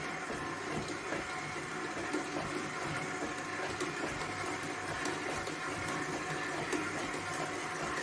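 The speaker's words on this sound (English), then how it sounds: "One more time with the mixer." Electric stand mixer kneading a wet bread roll dough with flour being added, giving a steady, loud whirring motor hum and sloshing churn that runs continuously without a break.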